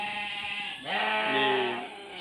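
A sheep on a farm bleats in two close, drawn-out wavering calls, loud and near, with no talking.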